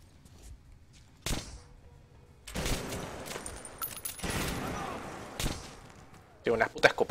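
Shotgun blasts and gunfire in the video game Metro: Last Light, a few loud sharp bursts spread across the clip with a noisy, crowded stretch in the middle and more cracks at the end.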